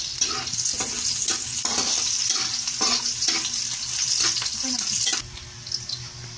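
Chayote hits a pan of browning garlic and sizzles loudly, with scraping stirs and clinks of a utensil as it is stir-fried, the frying hiss easing slightly near the end.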